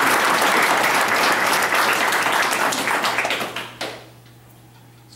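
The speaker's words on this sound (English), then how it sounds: "So please give everyone an applause for helping you." Audience applause at a township commissioner candidate forum: dense, steady clapping from a crowd that swells then tapers off and stops near the end, with a low steady hum beneath.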